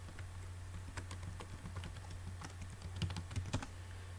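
Keys tapped on a computer keyboard while entering a sudo password at a Linux terminal, an irregular run of light clicks over a steady low hum, with a quicker, louder burst near the end.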